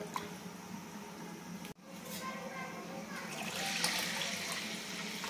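Water splashes and pours into a vessel of rice being washed for mutton biryani, with a brief cut and then a louder, steadier gush of water toward the end.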